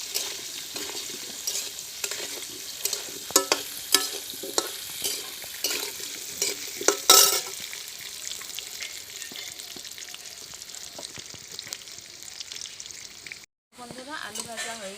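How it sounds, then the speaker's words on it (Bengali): Potatoes frying in oil with turmeric and salt, a continuous close sizzle broken by repeated spatula scrapes and stirs, with a brief dropout near the end. "এখন আমি ভালোভাবে ভেজে নেব।"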